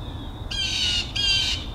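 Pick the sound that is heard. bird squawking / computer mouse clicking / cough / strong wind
bird squawking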